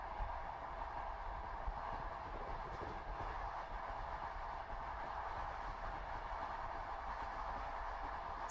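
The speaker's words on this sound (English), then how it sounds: "the soft, repeating song of the rails" Night train rolling over the rails on a winter journey, a soft, steady, distant rumble with faint regular clicking, continuous and low.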